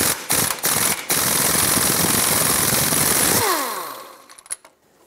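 A 19 mm socket on an impact tool hammers loose the strut-to-control-arm nut on a 1996-2002 Toyota 4Runner, a loud continuous rattling burst that cuts off and spins down into a few fading clicks.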